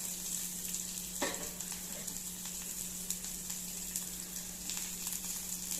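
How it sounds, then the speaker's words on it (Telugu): Onion pieces hiss in hot oil as they go in for mango dal, a steady, dense sizzle with a few faint clicks of stirring, close and with no voices. "ఇప్పుడు కొంచెం ఉల్లిపాయ ముక్కలు వేస్తున్నాను"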